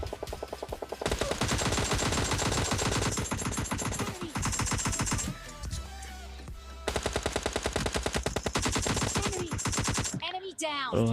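Rapid automatic gunfire from PUBG Mobile Lite gameplay, loud sustained bursts of machine-gun fire with short pauses between volleys, joined by scattered single shots and game effects, no talking.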